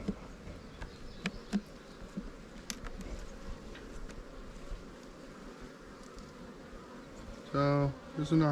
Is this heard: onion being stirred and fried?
no